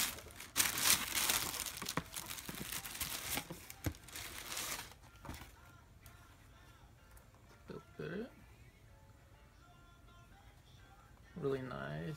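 Black wrapping paper from an Adidas Ultra Boost LTD box crinkles and rustles close up for several seconds, then quieter handling with a brief voice near the end.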